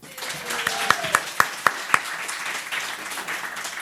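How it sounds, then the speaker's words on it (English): A few sharp claps ring out in quick succession, spaced roughly evenly, over a steady background of room noise and chatter. "I'll do an applause."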